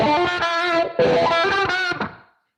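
Electric guitar sweep picking through distortion, quick arpeggiated note runs in two short bursts with a brief gap, loud and close, fading out at the end.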